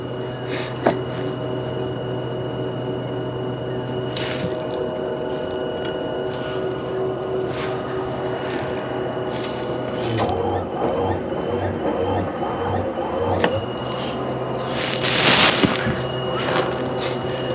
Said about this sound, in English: Pump is pumping diesel.